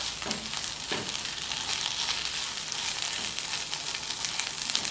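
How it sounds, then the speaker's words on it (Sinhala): Eggplant (brinjal) pieces sizzle steadily as they fry in oil in a pan, with a dense, continuous crackle and occasional louder pops throughout, close by and with no one talking. "දැන් වම්බුඩු ටික වහලා තෙල් එකෙන්ම තඹ ගමු"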